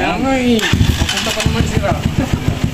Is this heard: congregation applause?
no